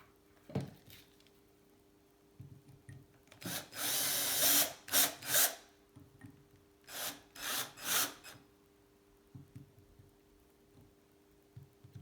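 Power drill boring into wood during a vintage Atala gravel bike build, heard as several short whirring bursts of a few seconds, fairly close, with quiet pauses between them.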